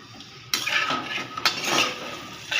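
A spatula clatters and scrapes against a pan while stuffing for pointed gourd fries bhujia style, with bursts of metallic stirring and a soft sizzle between them, close and fairly loud.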